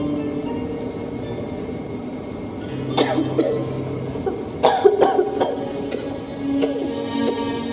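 A woman coughs several times in short bursts midway through, fairly close, over a steady hum of room noise with no speech.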